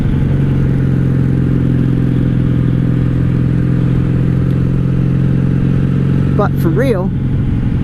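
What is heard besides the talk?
1997 Honda Magna 750 VF750C motorcycle riding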